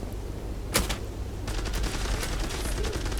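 Rapid bursts of video game gunfire during a bomb-planting round of a team shooter, a sharp close shot followed by sustained automatic fire and distant volleys, loud and continuous with no talk.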